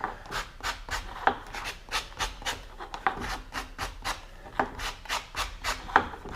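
Rubbing laser-cut char off a rocket booster part, a rhythmic series of short raspy scrubbing strokes, about two per second, close and clear with no talk.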